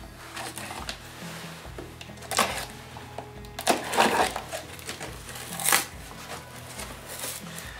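Cardboard packaging of a Parkside PDOS 200 C2 bench grinder being opened, with scattered close rustles, scrapes and crinkling bursts that peak in the middle and fade toward the end, no talking.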